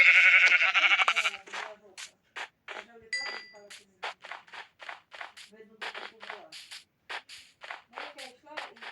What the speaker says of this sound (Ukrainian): баран білий.